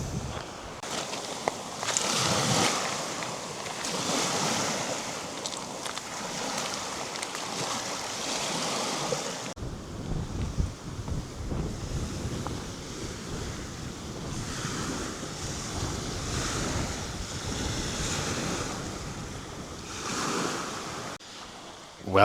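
Waves wash ashore at Filiatro beach on Ithaca, Greece, a continuous soft surf mixed with gusty wind noise. The texture shifts abruptly partway through, and the rumble stays moderately faint throughout.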